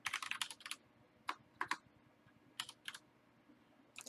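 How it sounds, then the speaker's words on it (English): Fast clusters of keystrokes on a computer keyboard arrive in short, close, crisp bursts separated by brief pauses, with no talking. "God, I can't type."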